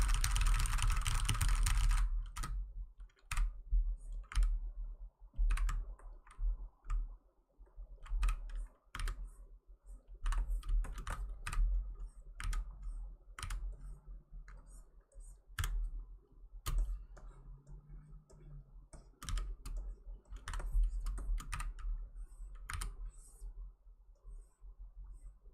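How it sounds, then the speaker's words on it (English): Steady, close computer keyboard typing runs throughout, with sharp individual key strikes and clatter over a low background hum, continuing for a long stretch without talking. "it turns out it's just like keyboard ASMR"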